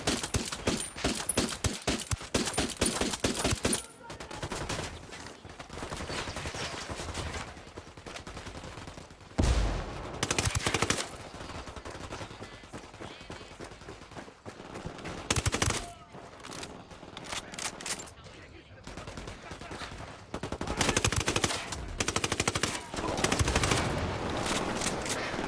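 Gunfire in the video game Ghost Recon Wildlands: repeated loud bursts of automatic rifle fire and rapid shots in a fusillade, broken by brief quieter gaps, with clinking of spent casings between volleys.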